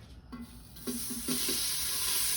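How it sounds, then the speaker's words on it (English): Diced bacon, half a pound, sizzles in a hot pan as a steady frying hiss that swells and grows louder, with a few soft clinks of stirring early on and no talking. "take a diced half-pound of bacon and throw it in the pan."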